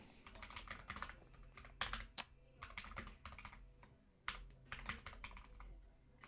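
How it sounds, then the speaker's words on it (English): Fingers type code on a computer keyboard in quick, irregular bursts of close, crisp key clicks and clacks, with brief pauses between runs. "let's type this out"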